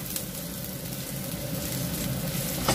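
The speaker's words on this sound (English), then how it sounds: "In a separate pan, we saute our garlic, ginger, and onion." Garlic, ginger and onion sauté in a separate pan for chicken wings with celery and cashew nuts, giving a soft, steady sizzle throughout with a faint clatter near the end.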